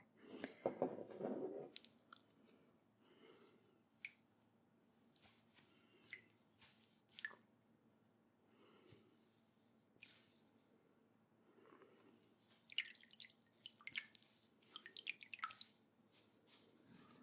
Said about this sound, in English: This is a little bit of warm water, nothing too warm though.